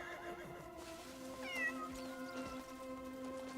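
A cat meows in the Crimson Desert video game, with a couple of clear, moderately loud mewing calls over steady game ambience and music.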